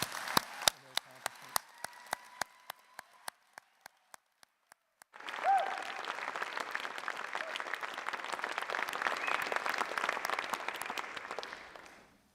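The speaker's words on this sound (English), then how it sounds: "I want to invite you all to clap again for our graduates of 2024" Audience applauding graduates at a university commencement ceremony in a concert hall: after a few seconds of scattered isolated claps, a full, dense round of clapping swells and holds steady before fading out at the end.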